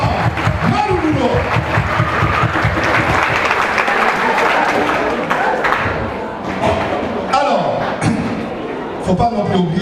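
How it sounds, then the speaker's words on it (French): An audience applauds at a Polynesian day event held at a high school in Papara, giving a loud, sustained round of clapping with cheers that eases slightly before swelling again, while a voice speaks over it. "Encore un dernier applaudissement"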